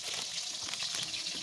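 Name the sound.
tomato frying in hot oil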